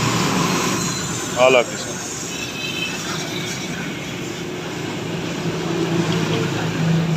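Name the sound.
pressure washer spraying water on motorcycle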